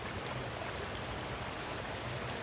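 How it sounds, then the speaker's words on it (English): Waterfall at the Falls of Glomach in a Highland gorge, heard as a steady, faint broadband rush of falling water in the distance, constant throughout with no voices. "Waterfall in the back there."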